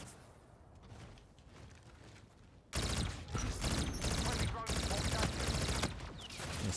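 Gunfire in Call of Duty Infinite Warfare during a team deathmatch on Dominion, starting as faint distant shots and turning into loud, dense rapid automatic fire that continues to the end.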